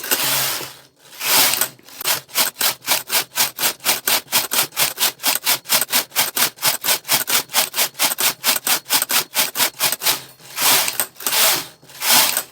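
A Brother hand knitting machine works rows of a seamless child's sock, its carriage sliding back and forth in a steady, rapid rasping rhythm of regular strokes, close and loud, with no talk.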